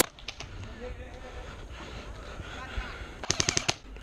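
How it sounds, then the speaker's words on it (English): Airsoft gun (Elite Force UMP or ICS G33) fired on semi-automatic during an outdoor skirmish, a quick cluster of sharp snapping shots near the end, preceded by steady background noise and a few earlier pops. "So I switch my gun to semi and just pop a shot at him real quick."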